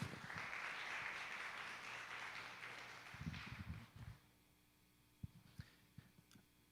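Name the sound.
church congregation applauding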